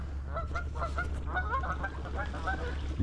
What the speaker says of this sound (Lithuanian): Didelis žąsis.